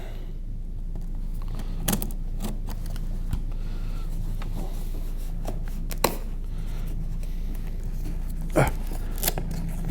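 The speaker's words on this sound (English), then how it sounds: "Got to cut the tape on it." A blade slices through packing tape on the shipping box of a Joby GorillaPod 3K kit, quiet scattered snips and clicks over a steady low hum, with no talking.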